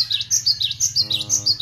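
A white-rumped shama (murai batu) of Aceh stock, a female, sings a run of bright, sweet whistled phrases close by, with rhythmic repeated notes and a steady low hum beneath.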